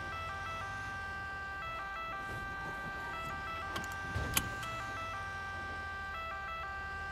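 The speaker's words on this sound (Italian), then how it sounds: "Vengo in sirena, ritorno in sirena." An emergency vehicle siren in an Italian fire-brigade role-play video game wails in a steady repeating electronic two-tone cycle, fairly faint and unbroken, with a brief thump partway through.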